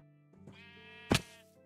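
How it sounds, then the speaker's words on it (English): Sheep in a GTA roleplay game give a clear wavering bleat lasting about a second, followed by a short loud thump, close and alone with no talk. "We've got some sheep."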